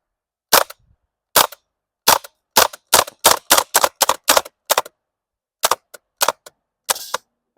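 An airsoft gas blowback HK UMP45 fired on semi-auto: a string of about fifteen sharp, crisp cracks in irregular bursts, loud and close against silence, with short pauses between groups of shots.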